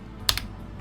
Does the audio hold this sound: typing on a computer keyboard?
yes